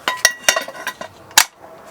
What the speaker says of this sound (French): Petite casserole.